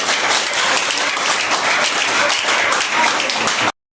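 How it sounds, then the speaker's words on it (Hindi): Students in a school classroom applaud during a physics lesson, a dense, steady burst of many hands clapping close by for about four seconds before stopping abruptly. "इनके लिए तालियां बजाइए"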